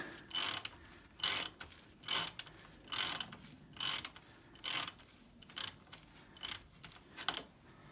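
Ratchet wrench clicking as a bolt is loosened during rear shock removal on a Honda Blackbird motorcycle, about a dozen evenly spaced rapid bursts of pawl clicks, close and clear with no talk.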